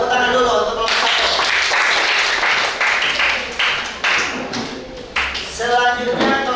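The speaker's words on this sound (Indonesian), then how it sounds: "Tepuk tangan dulu untuk kelompok satu." A classroom of students applauds a presenting group, a dense burst of clapping that fills the middle of the clip, with a teacher's voice speaking before and after it.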